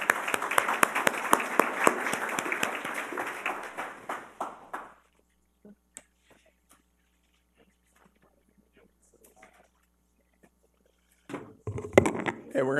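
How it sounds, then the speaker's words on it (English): An audience at a military conference panel on the Lake Chad Basin applauds, with dense clapping that fades out after a few seconds into near silence before brief rustling and movement. "I wanted to give one more round of applause to a great panel."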